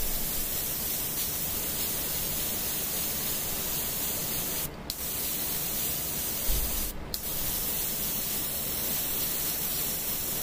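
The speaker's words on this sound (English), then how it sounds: "Maybe you can hear the activation of the airbrush." Steady airbrush hiss while painting a Mars-scheme Adeptus Mechanicus Dune Crawler miniature, continuous and close with two brief gaps where the trigger releases.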